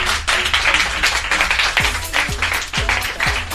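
An audience applauds a singer on a French variety broadcast, a dense burst of clapping with a few sharper individual claps standing out near the microphone.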